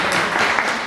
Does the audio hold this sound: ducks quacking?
no